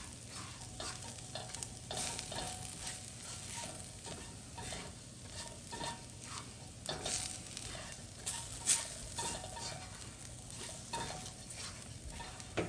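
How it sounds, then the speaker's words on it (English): Lobster mixture being stirred in a pan over medium-high heat on a stove: a steady close sizzle with repeated scraping strokes of the spoon throughout, no voices. "there's just a lot of stirring"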